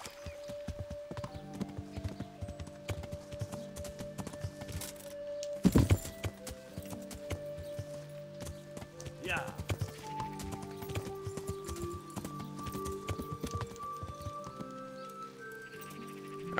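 A horse in the medieval video game Kingdom Come: Deliverance clip-clops at a steady walking rhythm. The hoofbeats run under game music, with a sharp louder burst partway through.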